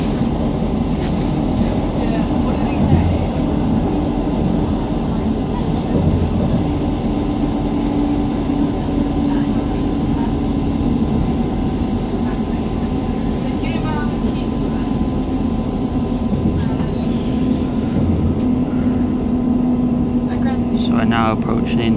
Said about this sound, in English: Show you the train when it leaves Dawlish.